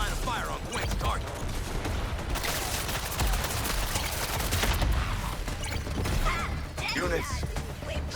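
Dense, continuous video game gunfire with crashes and mechanical clatter, a busy battle scene with a voice speaking over it.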